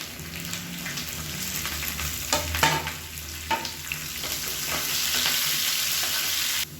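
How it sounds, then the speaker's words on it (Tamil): Shallots sizzle in oil with mustard seeds and curry leaves in a pan while a spoon stirs now and then. A close, steady frying hiss rises toward the end. "இப்போ வெங்காயம் நல்லா வதங்கிடுச்சு."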